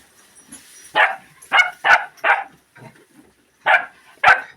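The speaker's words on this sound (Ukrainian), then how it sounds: "Не гавкай!" A dog indoors at home gives a series of short, sharp barks and yips, about six loud bursts spaced irregularly with brief whimpering sounds between them, close to the listener and without speech.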